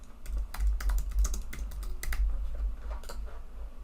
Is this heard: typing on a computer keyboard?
yes